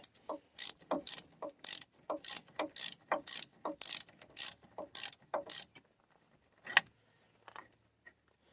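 A ratchet tightening truck suspension parts on a Silverado, a run of rapid clicking bursts in a steady back-and-forth rhythm, close and crisp, then a pause with a single sharp metallic knock and a few faint clicks.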